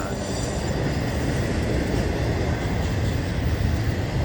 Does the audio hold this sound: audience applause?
no